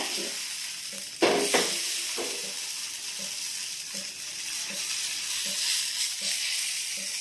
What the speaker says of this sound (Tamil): தோசைக்கல்ல நல்லா சூடாயிடுச்சுங்க இப்போ வந்து நம்ம கொஞ்சமா மாவு எடுத்து போட்டு நல்லா மெலிசா செஞ்சுக்கோங்க அடையை